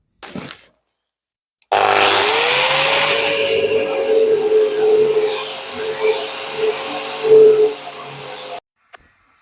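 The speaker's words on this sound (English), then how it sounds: "So on with the grinder." An angle grinder with a cup disc shaping a piece of reclaimed sandstone during stonework repair, a loud close whine that spins up and grinds for several seconds, then stops abruptly.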